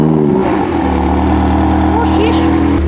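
McLaren GT sports car engine firing up close by, a sharp whirr and catch settling into a steady, fairly smooth idle hum, with people talking over it.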